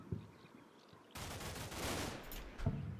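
Small arms fire from the Combat Mission: Cold War video game: a burst of crackling gunfire breaks in after a quiet stretch and keeps up as a dense, rolling fusillade with a few sharper reports near the end.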